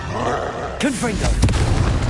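A Confringo spell explosion from Hogwarts Legacy lands as a booming blast near the middle, with a swooping whoosh before it and rumbling impacts after, loud and close over ongoing game combat noise.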